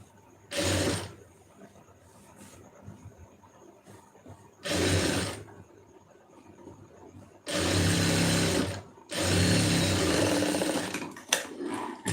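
A sewing machine stitches a blouse lining in four short, loud mechanical bursts of rapid whirring, the last two longer, separated by near-quiet pauses with faint handling noises.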